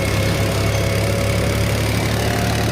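A tractor engine labours in third gear while hauling a loaded trolley, holding a loud, steady, close-up drone with a low throbbing hum and no break.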